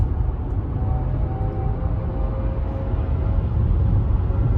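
Inside a Genesis GV60 electric car while driving, the first active sound design setting gives a steady low synthetic hum with faint tonal whine, blended with road and cabin noise, continuous and moderate in level.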